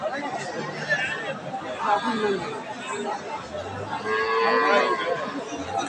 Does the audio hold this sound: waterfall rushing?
no